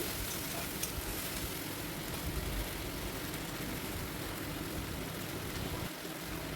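Ground spices being added to a hot pan for an egg and potato curry, giving a steady, close, broadband sizzle that holds evenly throughout with faint stirring and no voices.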